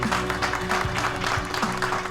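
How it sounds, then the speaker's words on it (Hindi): A crowd at a celebration applauds in a dense, steady burst of clapping, loud and close, with a low hum running underneath. "इन दोनों के लिए भी जबरदस्त तालियां होनी चाहिए।"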